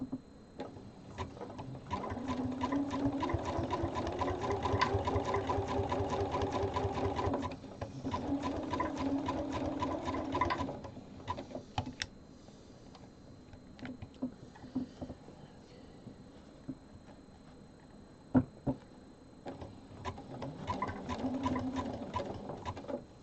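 A sewing machine stitches a zigzag seam through thick fur fabric in rapid mechanical bursts, pausing briefly between runs, with a few faint clicks in the quieter gaps.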